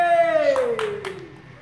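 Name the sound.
fighter clapping his hands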